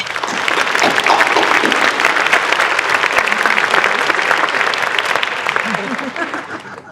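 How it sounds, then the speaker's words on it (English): A large audience applauds at a port authority's annual State of the Port address, steady loud clapping from many hands holding for about seven seconds before tapering at the end. "Let's give them all a round of applause."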